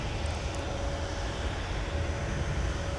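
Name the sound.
Delta Airlines plane taxiing on Taxiway Whiskey at MSP airport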